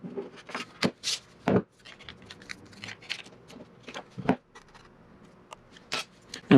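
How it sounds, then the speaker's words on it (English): Snipping a small square patch out of thin aluminum sheet for an aluminum rooftop tent repair, giving sharp intermittent cuts and scraping rubs with quiet pauses between, close by and without talk. "now we're going to cut out a little square here to patch this up."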